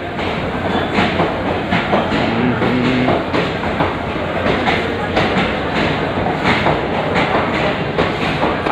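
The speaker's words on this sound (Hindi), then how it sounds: "Bandra terminal Muzaffarpur Awadh express Bettiah railway station से मुजफ्फरपुर की ओर जाती है" The Bandra Terminus–Muzaffarpur Awadh Express passenger train runs on rails between Bettiah and Muzaffarpur, giving a loud, steady rumble with a continuous rattling clatter of wheels and coaches throughout.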